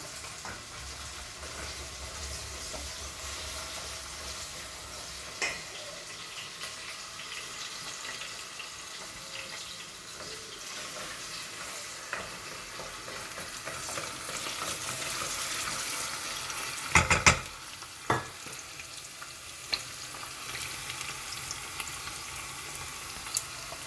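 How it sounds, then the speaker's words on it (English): Onions frying in a pan for a fish pepper soup, a steady soft sizzle running throughout, with a few louder clatters and stirring knocks near the middle; no talking. "So I let the onions to get a little bit brown."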